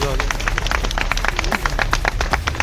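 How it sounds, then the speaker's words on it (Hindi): An audience at a police commissionerate event in Jodhpur claps, a brisk stretch of scattered hand claps with murmuring crowd noise underneath. "एक बार आप सबकी जोरदार करतल ध्वनि होगी।"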